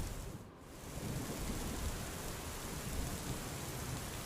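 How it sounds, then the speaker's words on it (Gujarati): Heavy monsoon rain pours steadily over a village in Junagadh district, Gujarat, a dense, continuous hiss of downpour with a brief dip near the start and a low rumbling undertone. "કેશોદ તાલુકાના માણેકવાડામાં પણ ધોધમાર વરસાદ પડ્યો હતો"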